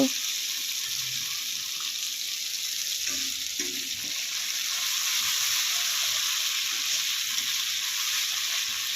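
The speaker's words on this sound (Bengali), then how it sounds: "মশলাটাকে এখন ভালো করে কষিয়ে নেব বন্ধুরা।" Masala spice paste fries in a pan for a Bengali drumstick, potato and katla fish curry, giving a steady bright sizzle throughout with a few faint stirring knocks underneath and no voices.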